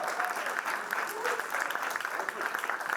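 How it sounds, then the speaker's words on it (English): Audience applause at a launch event for a centre, a steady wash of clapping throughout with some faint voices mixed in. "a big round of applause to her"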